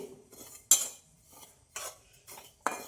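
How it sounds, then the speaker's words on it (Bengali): Semolina dry-roasting in a pan for mini gulab jamun, heard as a few separate scrapes and clinks of a utensil against the pan at irregular intervals, close and fairly quiet, with no talking. "সুজিটা ভেজে নিব একটা সুন্দর একটা সেন্ট বেরিয়েছে"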